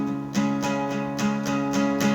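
Electric guitar chord struck repeatedly without palm muting in a country tune, ringing open and sustained, with about five even strums over two seconds, close and clear.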